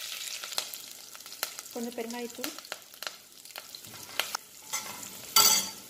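Green chilies and curry leaves sizzle and crackle in hot tempering oil, with popping bursts and stirring taps close by. A brief voice is heard once, and a louder spit of frying comes near the end.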